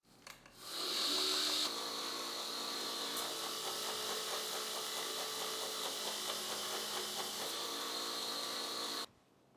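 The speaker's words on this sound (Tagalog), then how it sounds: "gagamit na ako ng mas mataas na grit na belt para gawing 400 grit machine finish ang blade" A belt grinder finishes a Damascus steel Viking seax blade with a 400-grit belt, a loud, continuous abrasive rasp and motor whine that starts sharply, holds steady for several seconds and then cuts off abruptly.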